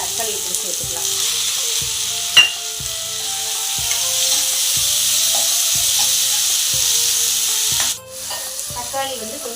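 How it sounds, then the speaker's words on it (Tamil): Tomatoes sautéing in a hot pan of oil, a steady bright sizzle with a regular pulse of stirring scrapes running underneath, holding loud and even before briefly dipping near the end. "இப்போ நல்லா தக்காளி இப்படி சேர்த்துக்கலாம்."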